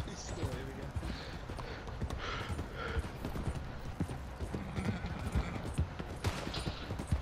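A horse gallops with steady clip-clop hoofbeats and lets out neighs in Red Dead Redemption 2 during a train defense, set against gunfire and game noise, with a player talking over it.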